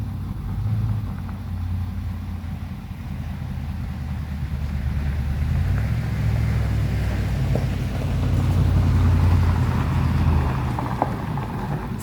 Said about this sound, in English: Suddenly there's a lot of traffic here.